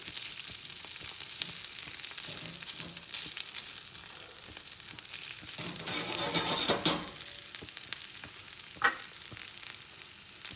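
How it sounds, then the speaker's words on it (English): Kimchi and chopped USA wagyu beef frying in a pan for a Korean beef omelet, a steady close sizzle with occasional scrapes and clinks of stirring, loudest in a brief burst toward the end. "I'm actually cooking the kimchi a little bit."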